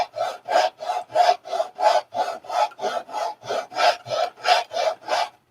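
Sanding by hand with 80 grit sandpaper, about fourteen loud, close, rhythmic rasping strokes in an even back-and-forth pattern.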